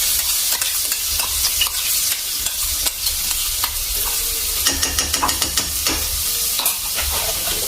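Garlic and coriander paste frying in a hot pan while being stirred, giving a steady close sizzle with repeated scraping and clinking strokes of the spoon throughout, no talking.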